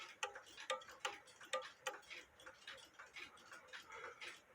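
MIKEN cuckoo clock with two bobbing birds ticking steadily under repair, a faint, close, even tick-tock rhythm over quiet room hiss.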